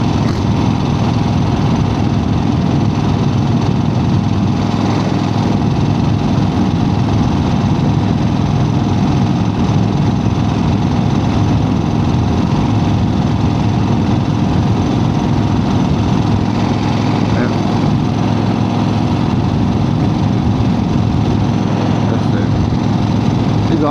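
A 1975 Harley-Davidson XLCH motorcycle engine idles steadily while warming up, a loud, continuous low rumble that holds close and unbroken throughout.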